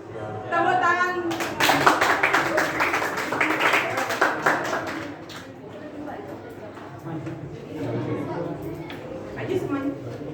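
A classroom of students claps for a student group coming to the front, a burst of applause lasting several seconds before fading, with a teacher talking before and after.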